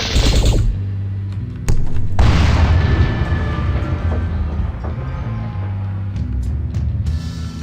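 Booming artillery-style shots from units firing in the 1997 PC strategy game Final Liberation: Warhammer Epic 40,000, loud low thuds with sharp cracks, followed by a rumbling low drone and a few lighter hits near the end.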